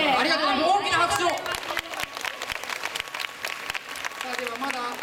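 Audience applause at a live stage event in Japan, dense clapping over crowd chatter and a host's voice, loudest at the start and then thinning into scattered claps under talk and music.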